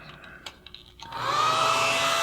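A hair dryer switches on after a few small clicks and then blows loudly and steadily to dry watercolor paint on paper.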